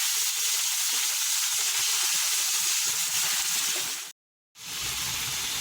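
Chicken frying in a pan with ginger-garlic paste, giving a steady loud sizzle with a few stirring knocks, then a brief cutoff before the sizzling resumes more quietly.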